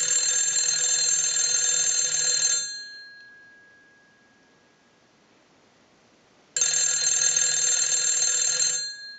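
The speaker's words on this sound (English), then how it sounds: "We'll let that ring a few times" The bell box of an AT&T 323 rotary candlestick telephone rings loudly in two long bursts, each about two and a half seconds, separated by a silent pause.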